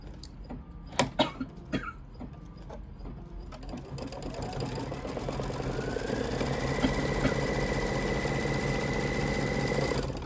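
After a few clicks and knocks, an embroidery sewing machine starts stitching quilt fabric with batting in the hoop and settles into a loud, steady, rapid mechanical whir up close.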